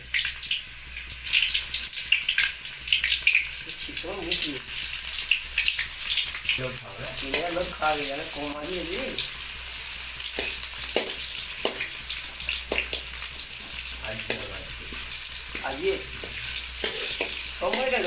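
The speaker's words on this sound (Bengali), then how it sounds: "অয়েল গরম হয়ে গেছে। তো আমাদের এখন পেঁয়াজ দেওয়া হচ্ছে।" Onions dropped into hot oil sizzle and fry for a mixed vegetable dish, a steady crackling hiss with scattered sharper pops and scraping stir sounds, fairly close and continuous.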